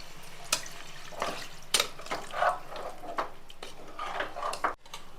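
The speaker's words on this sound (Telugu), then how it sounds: "2 గిన్నెలు నీళ్ళు పోస్తున్నాను" Water is poured into a pressure cooker of basmati rice for biryani, a steady splashing stream with small metallic clinks of the vessel, close and continuous for several seconds.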